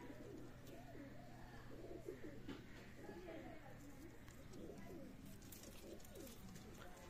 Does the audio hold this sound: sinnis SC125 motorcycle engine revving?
no